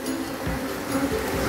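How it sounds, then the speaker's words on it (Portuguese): A dense, continuous buzzing of many honey bees close by at an apiary during a hive box change, droning steadily without pause. "tá cheio de abelha aqui"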